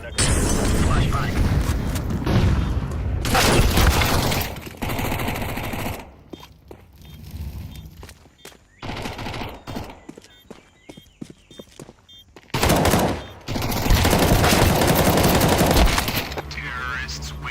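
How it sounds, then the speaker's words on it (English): Counter-Strike 2 gameplay brings grenade and flashbang blasts with bursts of gunfire, loud booms and clattering footsteps in chaotic waves, separated by quieter stretches. "Throwing a grenade. Flashbang."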